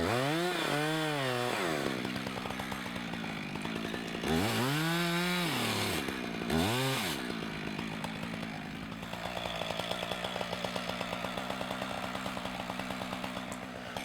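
A chainsaw cuts the sink notch in a standing tree, its engine revving up and down in several sharp bursts before settling into a steadier buzzing cut, fairly close and clear.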